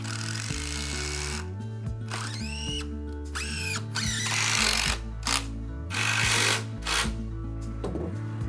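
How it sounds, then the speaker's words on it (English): Power drill driving 180mm screws into a small timber girder on a woodshed support, with repeated whirring bursts that rise in pitch, spaced by brief pauses, close and loud, with no talking. "I secure it to the support from the top with 180mm screws called tower kick."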